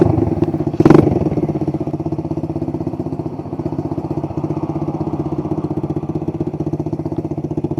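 A motorcycle engine idles steadily while warming up, with a rapid, even low throb and a louder knock or revving burst near the start, then settling into a constant loud idle with no talking.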